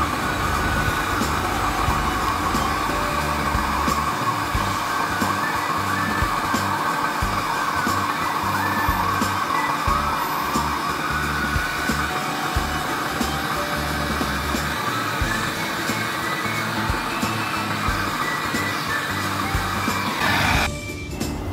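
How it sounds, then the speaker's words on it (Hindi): A welding torch brazes a new compressor onto a chiller, giving a loud, steady, close roaring hiss that runs without a break for about twenty seconds before cutting off near the end. "इसके बाद जो है इसको कंप्रेसर में लगा के हम लोग वेल्डिंग करेंगे अभी।"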